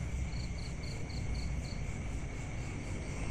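Frogs call at night: a series of about six short, high, evenly spaced chirping pulses rises over a steady, low background hum, with no speech.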